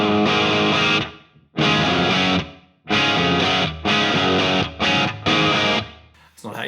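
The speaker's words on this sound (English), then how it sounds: "brought the overdrive on, changed the reverb, and that sounds like this." Electric guitar through a Marshall-style amp model on a HeadRush unit with overdrive and reverb, loud distorted chords struck in several bursts with short gaps and ringing decays.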